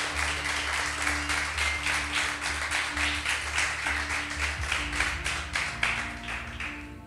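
Applause from a church congregation during a sermon, a steady rhythmic clapping that comes in regular pulses and keeps going at an even level under a low sustained hum.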